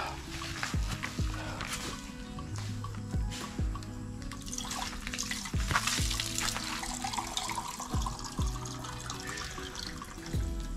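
Tap water runs steadily into a container while drinking water is fetched during a cleaning job, a continuous close splashing flow with small clinks and thuds from handling.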